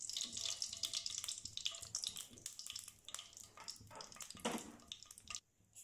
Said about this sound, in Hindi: अब ये 1 कप ऑयल है, इसमें ऐड कर लूँगी मैं